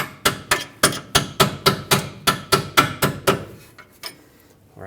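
Steel punch struck repeatedly with a hammer to drive a front control arm bolt out of a 2009-2019 Ford Flex: about a dozen sharp, evenly paced metallic blows close by, then a couple of slower, fainter taps.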